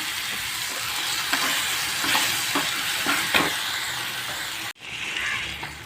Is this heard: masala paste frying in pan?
yes